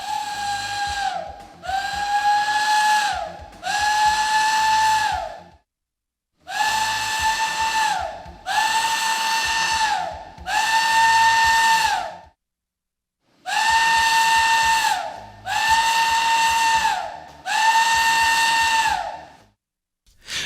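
A refinery vapor release whistle sounds in three groups of three short, loud steady blasts, each group separated by a brief pause, with no voices.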